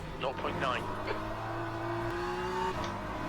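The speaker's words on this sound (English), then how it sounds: "going into the gravel" Race car in the Le Mans Ultimate sim game running off into the gravel trap, engine tones sliding and droning beneath someone talking over it, with rumbling, scrabbling noise underneath.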